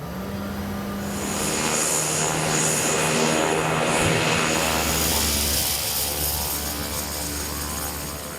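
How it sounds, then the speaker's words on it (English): A Cessna Grand Caravan propeller plane's engine roars loud and close, a sustained drone that swells in the middle and then steadies into a deeper hum. "usually rely on these Cessna Grand Caravans"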